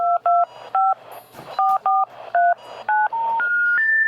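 Touch-tone telephone keypad being dialed, a rapid sequence of about ten clear DTMF beeps in uneven rhythm, close and loud, trailing into a steady held tone at the end.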